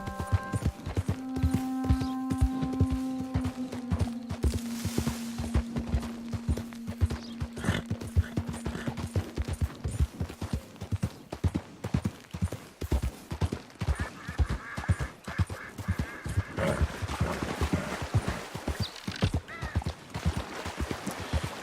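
Horse hooves clip-clopping in a steady rhythm in the video game Red Dead Online, close and continuous, with a neigh early on and no talking.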